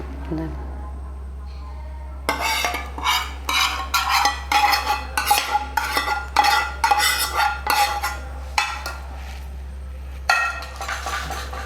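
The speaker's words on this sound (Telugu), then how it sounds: "చింతపండు కారం ఉప్పు బాగా బాగా కలిసేలాగా కింద నుంచి పై దాకా ఇదిగోండి ఈ విధంగా బాగా కలుపుకోవాలి" Tamarind pulp mixed with chili powder and salt is stirred vigorously, bursts of wet scraping and clinking of a utensil against a bowl after a quiet start, with a voice talking alongside.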